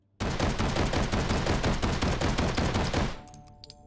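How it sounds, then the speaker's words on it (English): A firearm in the VR game Hot Dogs, Horseshoes & Hand Grenades empties a full magazine in one loud, rapid, continuous string of shots lasting about three seconds, ending in clicks and mechanical handling noises. "Let me just do a little mag dump here."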